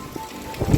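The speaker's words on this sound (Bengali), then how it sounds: "জোরে জোরে মুষলধারে বৃষ্টি পড়ছে" Heavy rain pouring down in Kolkata during Cyclone Remal, a steady wash of rainfall that swells louder toward the end of the short stretch, with no voices over it.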